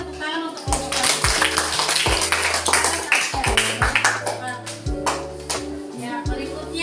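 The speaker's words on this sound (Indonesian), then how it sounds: "Berikan tepuk tangan untuk kelompok 1." An audience in a classroom claps for group 1 after its observation report. The loud, scattered clapping runs throughout over a steady low hum or background tone.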